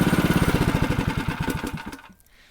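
A Honda GX 120cc engine on a motorized bike chugs in a steady, rapid pulsing beat up close, then cuts out and goes quiet near the end.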